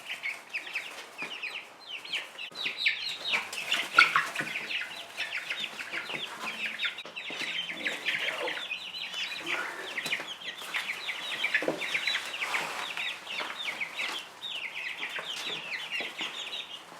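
A crowded flock of chickens in a backyard chicken yard keeps up continuous overlapping clucks and chatter close by, steady for the whole stretch and with no voices.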